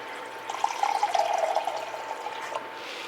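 Water poured from a cup into smothered chicken gravy in a pan, a soft splashing trickle that rises for about a second and tapers off, with faint kitchen clatter near the end.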